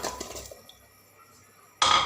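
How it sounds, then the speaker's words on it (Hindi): Taro roots dropped into a metal pressure cooker in a home kitchen: a few light clinks and knocks at the start, a quiet gap, then a sudden louder clatter at the end. "मैंने कुकर ले लिया है और उसमें मैं ये डालूँगी"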